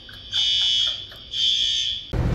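A fire alarm sounds during a taping, a loud piercing electronic tone in two long sustained blasts with a short gap between them, ending in a sudden burst of noise.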